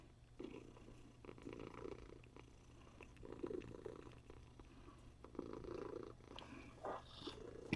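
Pet cats purring close by, a soft rhythmic rumble that rises and falls with each breath, quiet and alone.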